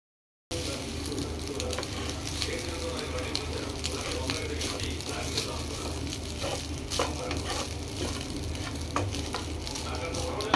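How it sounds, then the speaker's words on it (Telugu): Carrot rice stir-fried in a pan, a steady sizzle and crackle with repeated scraping stirs running throughout at close range. "రైస్ అంతా బాగా కలిసేలాగా కలుపుకోండి"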